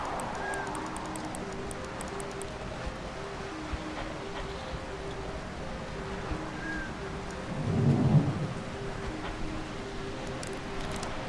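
Rain falls steadily in the Retropolis 2 video game while a low thunder rumble swells midway, with soft musical tones and faint drips layered over the storm.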